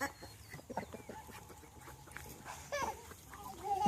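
Farm ducks mating in the background make a busy run of clucking, squawking fowl calls, scattered and irregular amid general farmyard noise.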